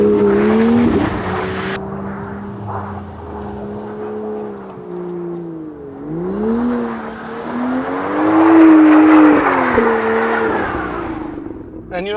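A BMW M2 drifts on snow at low speed, its engine revving and wavering continuously as the throttle is worked, loud and close, with strained tire noise rising toward the end and a voice speaking briefly under it.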